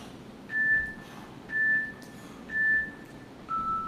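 A workout timer gives four evenly spaced electronic beeps about a second apart. The last beep is lower in pitch and held longer, and all four sound over faint background noise.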